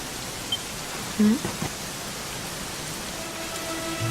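Steady rain pouring in Dragon Quest XI, a dense continuous hiss of falling drops with a few faint brief knocks and no talk.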